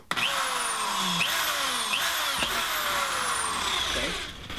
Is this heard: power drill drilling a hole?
yes